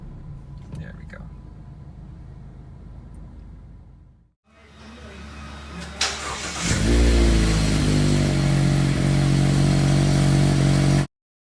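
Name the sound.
2018 Mazda MX-5 Miata RF engine started and running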